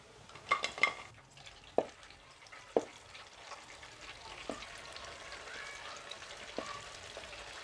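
Street-style chicken pakodi pieces frying in hot oil: a steady bubbling sizzle with a few sharp clinks and splashes as pieces are dropped in and stirred, fairly close and with no voices.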